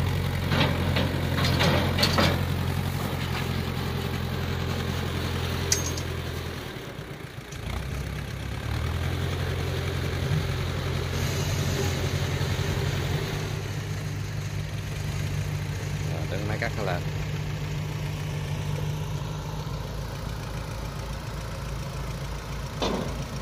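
A tractor engine idles and chugs steadily while hauling a Kubota DC60 rice harvester along a canal bank, a low droning hum with a brief dip partway through before it resumes.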